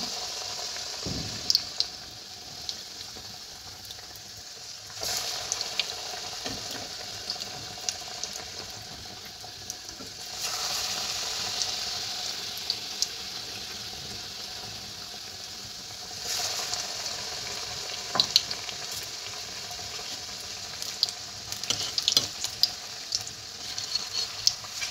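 Banana flower chops bubbling in hot oil, a low continuous sizzle that swells and fades over time with occasional small clicks, no voices.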